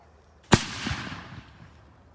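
A single sharp musket shot from an 18th-century battlefield reenactment cracks out loudly at a distance and rolls away in a long fading echo across open ground.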